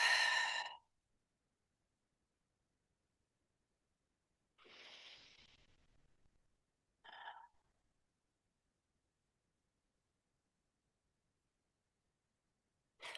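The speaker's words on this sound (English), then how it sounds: "You can take a couple more of those elimination breaths, breathing in. Exhale it through the mouth." Slow, deep breaths exhaled through the mouth during a gentle yoga session: a few soft, airy sighs separated by long stretches of silence, close and quiet with no talking.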